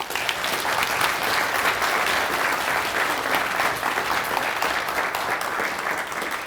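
An audience at an evening forest stewardship lecture greets speaker Jerry Franklin with sustained, even applause that fills the room at a steady level with no voices over it.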